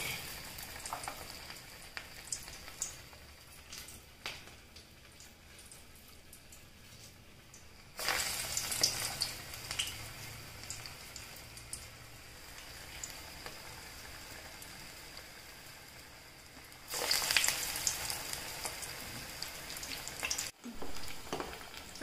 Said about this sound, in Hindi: अब मैं इसके ऐसे छोटे छोटे बॉल बना के इसे हम गरम तेल में फ्राई करेंगे